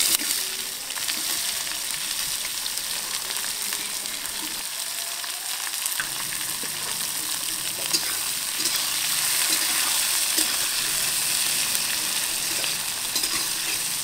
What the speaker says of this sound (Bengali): পেঁয়াজ রসুনটা বেশ ভাজা ভাজা হয়ে গেছে, বেশ সুন্দর কালার হয়ে গেছে